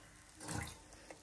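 Water pours into a pan of dried fish curry, a steady splashing rush that swells in the middle of the short stretch and then eases, close and moderately loud with no talk over it.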